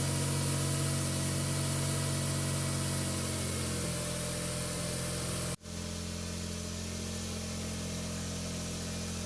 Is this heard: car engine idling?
yes